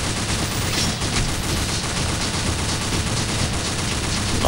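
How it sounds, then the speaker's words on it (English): Assault rifle fire in the zombie shooter video game Deadhunt: a loud, dense, unbroken rattle of rapid shots that fills the whole stretch, with no speech. "once you take one down, you get the assault rifle with infinite ammo"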